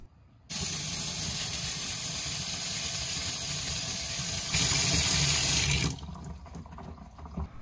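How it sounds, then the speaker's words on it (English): Water suddenly starts running hard from a tap, washing Yamaha Star 650 brake covers, a loud steady gushing spray that grows stronger before cutting off, followed by quiet handling sounds. "Both of these covers will be washed before they're put back on."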